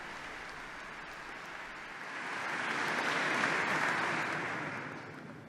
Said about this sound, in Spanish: El aplauso lo han comenzado las monjas